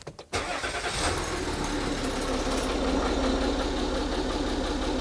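A car engine on the C666 project car cranks briefly, catches, and settles into a steady, loud idle that fills the rest of the clip.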